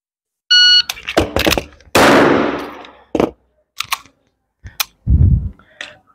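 Pistol shots during a magazine change drill at an Army firing range: several sharp, loud reports with brief pauses, a double shot near the start, then more scattered shots and clicks, including a beep-like start signal.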